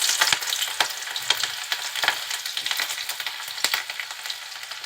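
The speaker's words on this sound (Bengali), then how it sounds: "তেলটা একটু গরম হলে দিয়ে দিচ্ছি পেঁয়াজ কুচি।" Chopped onion frying in hot oil for a vegetable stir-fry, a steady close sizzle broken by crackles and the scrape of stirring, with no talking.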